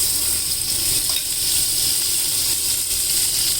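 Butter melting in a pan gives a steady, even sizzle and hiss that holds at the same level throughout, close and fairly loud, with a faint low hum beneath. No one speaks.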